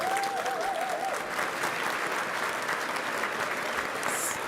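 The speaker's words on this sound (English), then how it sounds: "The cheering section right up front." A large audience at a 2024 annual scholarship luncheon breaks into sustained applause, dense steady clapping that fills the room for the whole stretch, with faint cheering mixed in.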